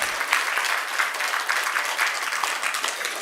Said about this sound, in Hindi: बजाओ जोर से ताली।